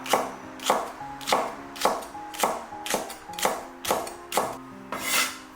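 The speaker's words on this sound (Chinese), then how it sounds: "再来准备点大葱，给它切成小段" A knife chops green onion into short pieces on a cutting board, with nine evenly spaced, crisp chops close by, each with a brief woody knock.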